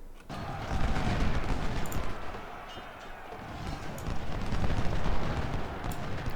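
Cannon fire from Civil War artillery in the strategy game Ultimate General: Civil War, a dense continuous roar of booming shots and rumble that swells and dips, with no talk.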